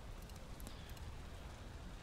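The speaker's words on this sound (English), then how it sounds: "it's raining, and of course it's a thunderstorm the very second day" Steady rain patters and hisses continuously during a thunderstorm in the video game Valheim, a faint, even wash of falling drops with no talking.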